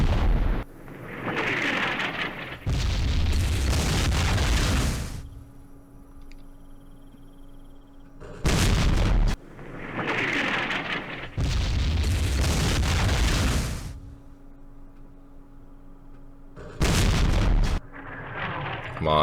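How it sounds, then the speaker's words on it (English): Artillery explosions in Campaign Series Vietnam, during the 1968 Battle of Ba Ria: heavy booms come in separate loud bursts, some long and rumbling and others short, with quieter stretches of low background hum between them. "It's like they knew I was going to hit that area with artillery."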